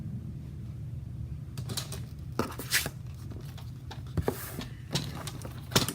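Several quiet, irregular snips of scissors cutting through paper over a low background hum, with short crisp bursts scattered across the stretch.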